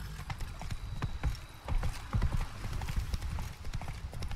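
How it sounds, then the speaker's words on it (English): Horse hooves clip-clop steadily on hard ground in the video game The Witcher 3: Blood and Wine, a brisk close rhythm of hoofbeats with soft background ambience. "it's difficult to navigate tight spaces with this horse"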